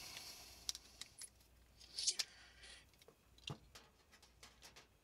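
Ordinary wire snipped into short lengths, with several sharp close clicks of the cutter spaced irregularly against a quiet background, and a few softer handling rustles between them.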